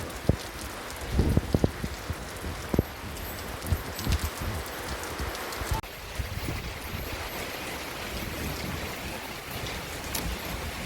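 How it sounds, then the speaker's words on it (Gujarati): Heavy monsoon rain pours down on a village house courtyard near hills, a dense continuous hiss with scattered louder drops and patters striking surfaces. "જો આ કેટલો બધો વરસાદ આવે છે"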